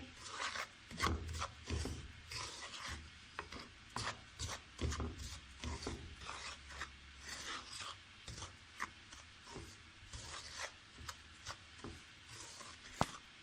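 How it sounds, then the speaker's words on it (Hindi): Dry semolina (sooji) is stirred in a kadhai for halwa, making soft, rhythmic scraping and rubbing strokes of the spoon against the pan, quiet and close, repeating steadily. "अब हम इसको अच्छी तरह मिक्स करके फ्राई कर लेंगे।"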